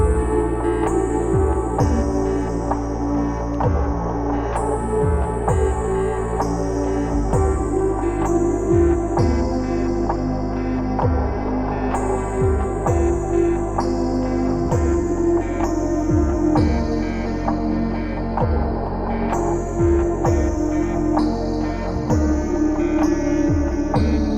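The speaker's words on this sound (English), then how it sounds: "I made this healing theme inspired by Shin Megami Tensei III" Looping healing theme in the style of Shin Megami Tensei III: steady sustained low synth bass and pads under repeating bell-like melodic notes, a continuous calm arrangement at even loudness with no talking.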